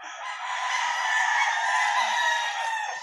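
Several Allen Roundhead gamecock roosters crow at once on a game farm, a dense overlapping chorus of loud, sustained calls that fills the air without pause.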